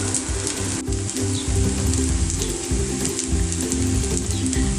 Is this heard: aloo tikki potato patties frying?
yes